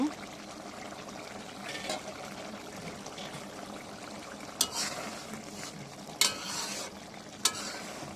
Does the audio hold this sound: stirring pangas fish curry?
yes